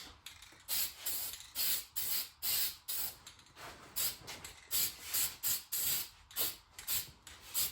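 Spray painting a 1980 John Deere 400 tractor: repeated short bursts of hissing spray, roughly a dozen even passes in a steady rhythm with brief pauses between, close and moderately loud with no talking.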